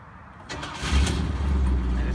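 A 1972 Lincoln Mark IV's engine cranks briefly and catches, rising into a low, rumbling idle close by.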